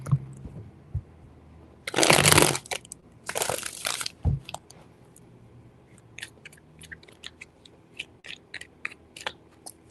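Tarot cards being shuffled by hand in three short rounds, two loud riffling bursts followed by scattered soft taps and card clicks, close and without voices.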